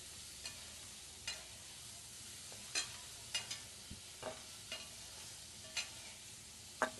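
Paneer being briefly fried in a small amount of oil in a kadhai. A quiet, continuous sizzle runs underneath while a spatula stirs, tapping the pan in scattered clinks.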